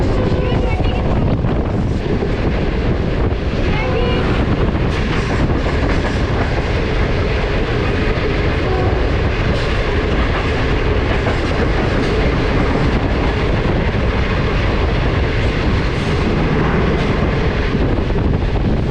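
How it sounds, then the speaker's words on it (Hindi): The 40 Down Jaffar Express at Gujranwala railway station, heard as a steady loud rumble of rail cars with rhythmic clickety-clack and wind buffeting the microphone throughout. "40 डाउन जाफर एक्सप्रेस जो कि गुजरावाला रेलवे स्टेशन पर खड़ी है"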